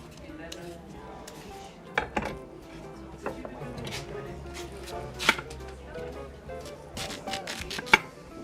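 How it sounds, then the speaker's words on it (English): Six large sweet potatoes being peeled and quartered with a knife: irregular knife chops and thuds on a board, with a few sharp clacks, under soft room noise. "So you'll need about 6 large sweet potatoes. Okay. And you just want to peel and quarter them."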